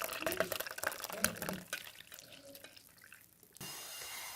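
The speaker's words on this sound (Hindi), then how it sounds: "अब इस तरह से छान लेना है इसको।" Kashmiri chai is poured through a strainer with a running liquid splash and clinks of utensils, under faint voice sounds, and a steadier hiss follows near the end.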